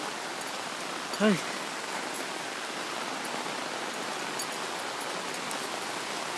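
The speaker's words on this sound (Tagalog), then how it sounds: "Naabot kami ng ulan." Steady rain falling outdoors in rural Bataan, a dense even hiss throughout with a brief exclaiming voice near the start.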